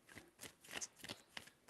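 A deck of tarot cards is shuffled by hand in a series of soft, rhythmic riffles and slaps, close and quiet with no talking.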